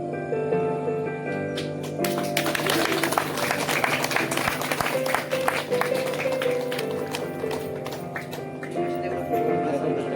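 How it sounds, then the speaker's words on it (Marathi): Loud applause from a crowd at a village school Republic Day celebration: a sustained burst of clapping swelling after a short lead-in, holding steady for several seconds over a faint background hum, then fading. "एकदा जोरदार टाळ्या होऊन जाऊ द्या."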